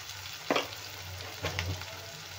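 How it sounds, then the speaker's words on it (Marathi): Red chili powder sautéed with coriander powder in a pan for a dry cabbage and potato dish, giving a low steady sizzle broken by two brief scraping stirs of the spatula. "लाल तिखट पण परतून घेऊया व्यवस्थित।"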